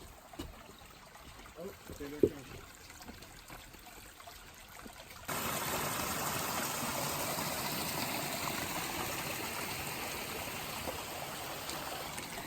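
A stream at a trail water crossing on the Appalachian Trail rushes steadily, quiet at first and then suddenly louder and closer, a constant broadband wash with no talking.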